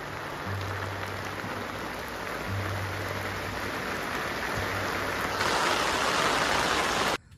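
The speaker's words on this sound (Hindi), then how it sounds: "अभी बारिश बहुत ही ज़ोर से हो रही है" Heavy rain pours down in a steady, dense hiss that holds for the whole stretch and grows slightly louder near the end before cutting off, with no voices over it.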